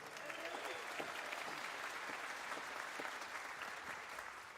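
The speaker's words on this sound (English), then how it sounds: "And one more round of applause for our home state hero, musician first class Justin Mendez." A concert audience claps steadily for a U.S. Navy jazz band, a dense, even wash of hands. A few voices murmur and call out beneath it.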